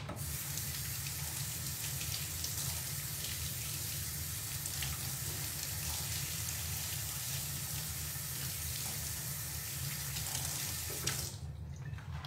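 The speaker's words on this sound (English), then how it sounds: "I'm gonna go over here and wash these really good." Vegetables washed under a running kitchen sink tap, a continuous steady rush of water lasting the whole stretch, close and even, stopping just before the end.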